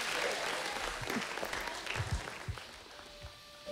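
A church congregation claps together in steady, scattered applause that fills the space, with faint voices mixed underneath.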